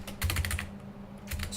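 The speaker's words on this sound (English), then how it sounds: "we need to type super" Rapid computer keyboard typing in two clusters of crisp keystrokes, close and clear over a low steady hum, with a short gap between.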